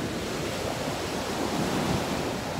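Ocean waves crash and wash in a continuous broadband roar, with wind noise blending into the steady surf.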